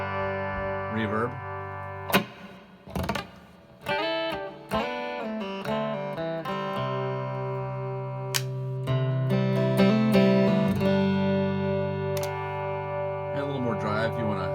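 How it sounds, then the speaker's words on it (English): Electric guitar played through a Flyrig 5 amp emulator pedal with reverb switched on, demoed in a music store: sustained chords and single notes with a rich harmonic tone, interrupted by short pauses and string attacks, fairly loud and close. "Reverb."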